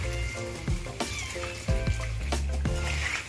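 A soft frying sizzle of dahi vada in oil under steady tonal humming, with a few sharp clicks and knocks breaking through now and then.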